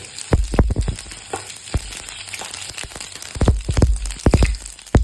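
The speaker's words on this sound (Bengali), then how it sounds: "তেলটার মধ্যে আমি ফোড়নে দিয়ে দিলাম জিরে" Cumin seeds tempering in hot oil in a pan while fish is being cooked for a Bengali kalbaush curry, giving a close, steady sizzle broken by sharp pops and crackles.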